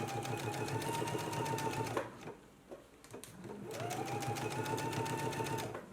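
A sewing machine bastes a dress collar in place, a steady rapid stitching whir that pauses briefly in the middle and then resumes, fairly quiet and with no talking.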